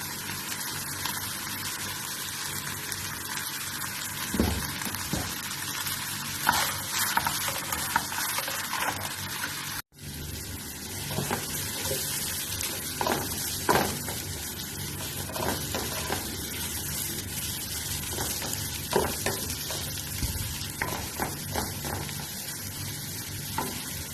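Meat fries and is stirred in a pan with onion, salt and white spice for a Chinese-style dish, giving a steady close sizzle with scraping stirs throughout and a brief gap partway.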